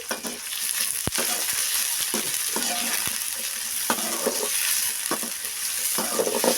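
Two medium-sized onions sizzle steadily in a hot pan for a drumstick masala, with a utensil stirring and scraping through them at close range.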